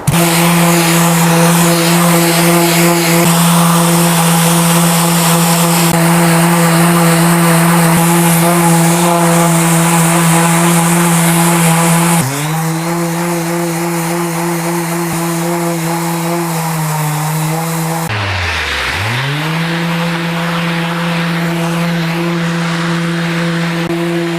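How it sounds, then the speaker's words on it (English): A loud electric power sander working a glued wooden river table leg, a steady high whine with a strong hum that drops in pitch and dips briefly near the end as the tool slows. "Now I've unclamped the first leg and the second leg is gluing up, I can sand this one."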